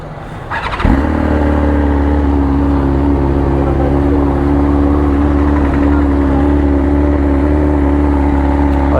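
A BMW S1000RR motorcycle fires up from a cold start and settles into a loud, steady, close idle, the engine's even drone holding without revving through to the end.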